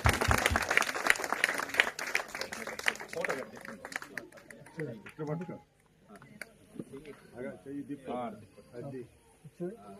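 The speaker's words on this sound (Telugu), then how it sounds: "అందరూ చప్పట్లు కొట్టి అందరూ చేతులు తట్టాలి." Members of a congregation at a religious gathering clap their hands in a dense burst that fades after a few seconds, followed by a voice speaking with scattered claps underneath.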